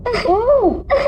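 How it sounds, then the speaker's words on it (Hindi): A distraught person cries in a CID crime drama scene: one loud, close, wavering wail that rises and falls, followed by a short sobbing breath. "रोने की आवाज।"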